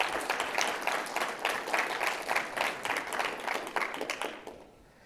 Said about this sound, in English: So can you give another round of applause